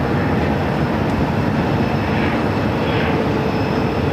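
A Sun Country Boeing 737-800 airliner on approach to runway 26 at Phoenix airport, a steady broadband jet roar rumbling continuously at a moderate distance with no break.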